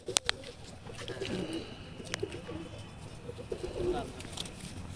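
Domestic pigeons, Andhra and Madras breeds, coo softly in a home loft, with low, repeated throaty calls and a few sharp clicks or wing flaps over faint background murmur.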